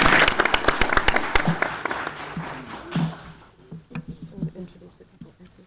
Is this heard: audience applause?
yes